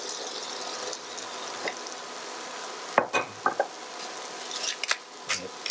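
Mushrooms frying in butter in a pan alongside halibut, a steady soft sizzle with a few utensil clinks and stirring scrapes near the middle and end, no talking.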